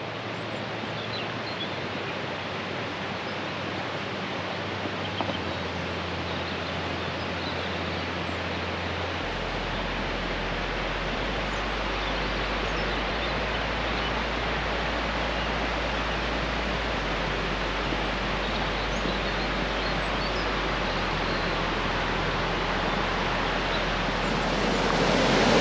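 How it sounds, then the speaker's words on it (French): River water rushing through the Toulourenc gorge, a dense, steady broadband roar that stays constant throughout, with low wind rumble and no voices. "on entend fortement l'eau s'écouler"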